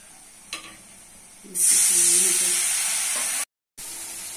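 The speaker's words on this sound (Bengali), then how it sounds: "তেল গরম হয়ে গেছে, দিচ্ছি পেঁয়াজ কুচি" Chopped onions and spices hitting hot oil in a pan, a loud sudden sizzle that hisses steadily for a couple of seconds, briefly cuts out, then resumes.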